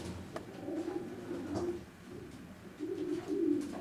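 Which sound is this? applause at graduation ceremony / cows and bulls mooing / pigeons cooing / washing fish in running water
pigeons cooing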